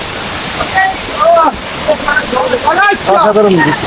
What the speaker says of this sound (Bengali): অবশেষে আমরা ঝর্ণার দেখা পাইলাম